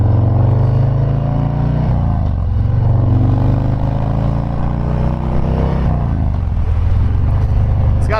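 A 2019 Harley-Davidson FXDR drag-style Softail pulls hard, its engine loud and close with a deep rising roar that climbs through gears, dropping briefly at each shift before building again.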